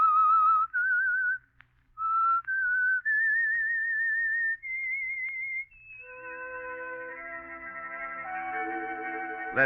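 A melodic signal tune is whistled clearly on a 1947 radio program, with a few short wavering phrases rising in pitch, then a sustained orchestral chord swells in at the end.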